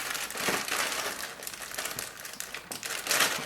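Paper documents rustle and crinkle as they are handled and lifted out of a Gigabyte MO27Q28G monitor box, a steady close-up crackle with a few louder crumpling bursts and no talking.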